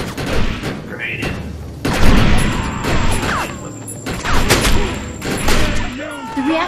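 Loud video-game battle from Defiance: a grenade blast amid rapid bursts of gunfire and crashing impacts, with a voice talking over the continuous combat.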